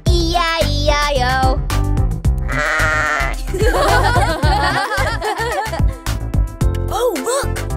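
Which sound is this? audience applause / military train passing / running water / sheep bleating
sheep bleating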